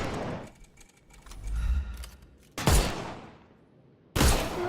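Gunfire rings out in a Sherlock Holmes game as enemies' armor is shot off: a flurry of sharp clattering hits, then two loud separate bursts with decaying tails, close and with no voices.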